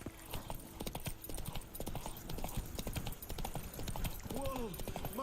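Rapid hoofbeats of Roach galloping in The Witcher 3: Wild Hunt, close and busy under game ambience, with a brief whinny-like sweep near the end and voices present.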